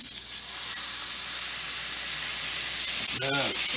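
A burger patty is pressed flat with a pan on a hot cooking surface, giving a loud continuous sizzle and hiss close by. A short voiced sound comes near the end.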